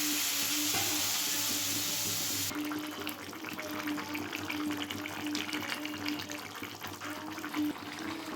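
Vegetables, including cauliflower, fry in a pan for a thin tengra fish curry. A loud hiss at first turns into a steady, close crackling sizzle with faint stirring, and no one speaks.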